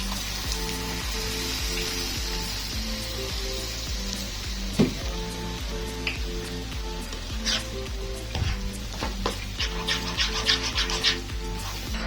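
A butter and almond mixture sizzles in a pan while being stirred, giving a steady frying hiss broken by repeated scraping strokes and occasional small pops, close and continuous.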